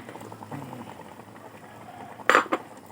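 Soup with malunggay leaves and beaten native egg simmering in a pot, a soft steady bubbling with a quiet watery texture, broken near the end by a couple of sharp metallic clinks of a utensil against the pan.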